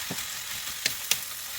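Cabbage and carrot are stir-fried with chicken noodles in a hot pan, giving a soft, steady sizzle broken by two sharp utensil clicks near the end.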